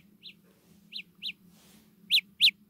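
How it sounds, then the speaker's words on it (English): Samsung Galaxy Buds sound a find-my-earbuds alert from a table: five short, sharp electronic tweets, spaced unevenly and growing louder toward the end, over a faint steady hum. "Okay, and it's making a tweeting sound."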